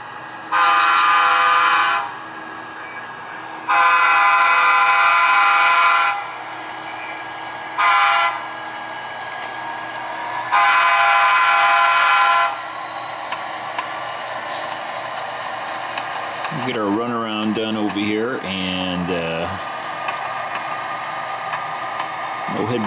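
A model train horn sounds in several long blasts with gaps between, followed by rumbling rolling and a rising mechanical whine; no talking.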